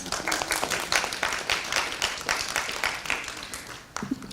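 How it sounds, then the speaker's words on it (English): A crowd at a Black Heritage Month celebration applauds steadily with a dense wash of clapping, fading slightly near the end as a voice starts up. "Let's give Taylor another round of applause."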